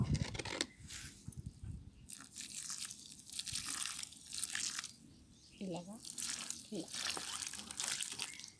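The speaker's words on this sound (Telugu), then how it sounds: "ఇప్పుడు వీటికి వాటర్ అయితే ఇద్దాము" Water is poured over freshly planted lily bulbs, splashing and trickling into the soil in several uneven bursts, close and fairly quiet.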